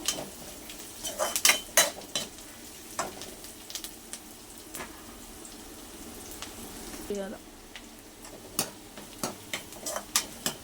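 Garlic fries in a pan with onions while a utensil stirs, producing a soft continuous sizzle broken by irregular sharp metallic scrapes and taps against the pan, with a person talking over it.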